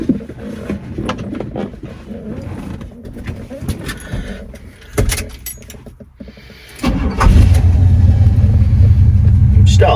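A 1974 Cadillac Superior hearse starting from cold: rustling and key clicks, a brief cranking, then the engine catches into a loud, steady low rumble at idle.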